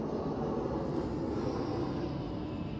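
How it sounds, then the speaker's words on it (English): Airplane passing overhead near an airport, a faint, steady low rumbling roar that holds evenly throughout with no voices. "you might hear a plane overhead now and then, just like that one right there"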